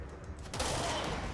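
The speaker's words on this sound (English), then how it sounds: "So if I fire the gun, it's a one-hit kill." A gunshot from a weapon in the video game Control, a loud booming report with a dense, rumbling tail that fills the short moment, with no talking over it.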